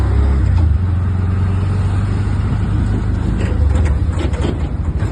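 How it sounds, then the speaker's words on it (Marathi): An auto rickshaw arriving on a street, a loud low engine rumble close by, steady at first, then shifting with rattling and clatter as it draws up and stops. "हा आली रिक्षा आली."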